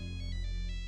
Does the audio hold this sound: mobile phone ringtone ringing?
yes